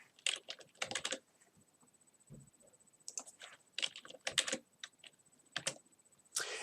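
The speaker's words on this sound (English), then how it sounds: "Now I do prefer to use parentheses around these just to be thorough, so I'll type those in." Parentheses being typed into an Excel formula on a computer keyboard, with short clustered bursts of crisp, close keystrokes separated by brief pauses.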